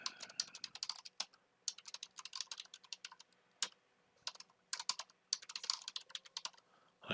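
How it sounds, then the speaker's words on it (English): Rapid keystrokes on a computer keyboard come in quick bursts with short pauses, crisp and close in a quiet room, with no talking. "So here we'll just type"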